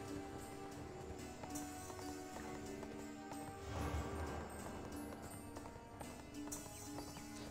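A horse gallops in the video game ArcheAge with a steady clip-clop of hooves under a game soundscape, the footfalls rising briefly midway as the animal runs on.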